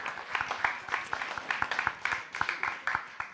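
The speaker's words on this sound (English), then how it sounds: "Please give another big round of applause." Audience applause at a startup pitch competition demo day, a steady wash of many hands clapping with repeated sharper claps throughout, fairly close and full.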